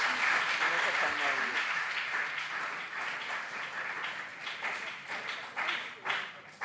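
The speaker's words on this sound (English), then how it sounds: "A round of applause for them." Audience applauding at a junior science and maths quiz contest, a sustained wash of clapping from a crowd that fills the whole stretch, steady and fairly loud with slight swells toward the end.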